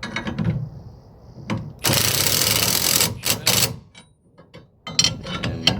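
Socket wrench working on a trailer hitch bolt during a camping-trailer safety check: a dense metallic ratcheting burst of about a second, then a few shorter clicky runs and scattered taps, close and fairly loud, with no talk.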